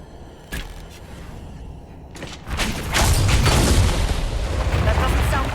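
A loud explosion in the video game Dragon Age: Inquisition, a sudden burst that swells into a sustained rumbling roar lasting several seconds, with faint game ambience before it.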